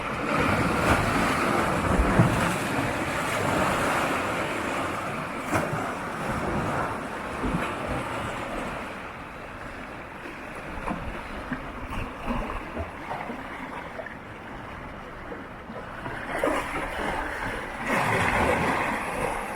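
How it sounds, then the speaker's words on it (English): Water at Kenosha Harbor washes and splashes against rocks in a continuous rushing wash, with heavy wind buffeting the microphone throughout. "Just the water hitting up against the rocks."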